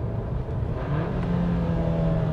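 An Audi A3 Sedan engine hums steadily under acceleration, its tone rising smoothly and shifting as the automatic gearbox changes gear, close and continuous with no talk.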